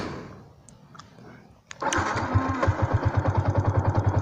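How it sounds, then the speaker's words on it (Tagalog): A manual motorcycle engine starting: a few faint clicks, then the engine catches abruptly and settles into a steady, close, rhythmic idle chug that continues to the end, with no talking. "On natin yung motor."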